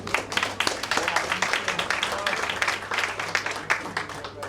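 Audience applause for a commissioner at an installation ceremony, a steady patter of many hands clapping for several seconds at moderate loudness, with faint voices mixed in.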